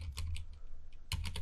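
Quick keystrokes on a computer keyboard during setup of a TrueNAS Scale server, several close taps in a short burst, a pause, then another cluster of clicks, with no talking.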